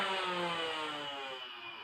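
Motorized flywheels of a Nerf Ultra AMP blaster powered by six AA batteries spin at high speed, a sustained whine with layered tones that slowly winds down over under two seconds, close and moderately loud with no talk.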